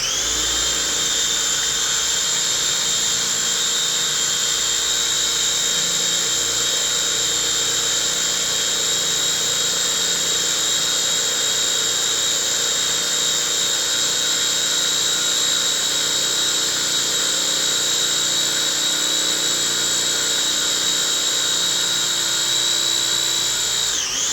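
A food processor blends roasted red pepper hummus with a loud, steady motorized whir that runs unbroken for the whole stretch, with no talking.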